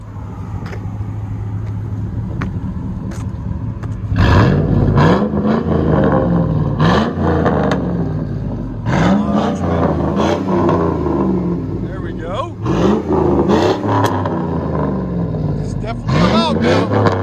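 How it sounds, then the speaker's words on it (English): A 2001 Chevy Silverado with a 5.3L V8 and SLP Loudmouth dual exhaust rumbles loudly up close, revving repeatedly in short bursts as it backs out, with people talking over it. "2001 Silverado SLP Loudmouth duals. Straight out the back into 4-inch tips."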